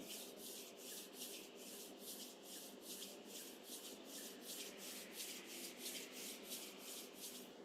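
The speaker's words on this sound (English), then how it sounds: "Put your hands together and rub them." Palms rubbing together in steady rhythmic strokes, a continuous dry swishing repeated about twice a second, close and fairly quiet against a faint background hum, with no voices.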